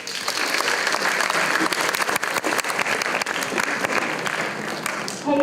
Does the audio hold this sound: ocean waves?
no